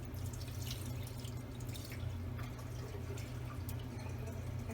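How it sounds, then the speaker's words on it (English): Rice rinse water drips and trickles steadily as it is poured off and drains into a sink, with a constant low background hum. "So just mix it up and then you want to drain it."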